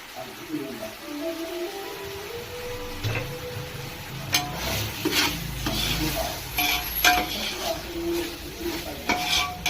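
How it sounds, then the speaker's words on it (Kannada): Ground masala frying in a pan, with a steady sizzle under repeated scraping and clinking from a spoon stirring against the metal, and faint voices in the background. "ಈ ಮಸಾಲನ ಹಾಕಿ ಸ್ವಲ್ಪ ಚೆನ್ನಾಗಿ ಫ್ರೈ ಮಾಡಬೇಕು"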